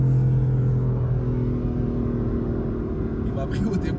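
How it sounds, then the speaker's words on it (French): A 2015 BMW M4 running Eurocharged software at about 630 hp, wheels spinning as it accelerates: a loud, steady engine drone and road rumble close by, with a brief higher rasp near the end and people talking over it. "La voiture, elle patine, genre elle tient pas la route."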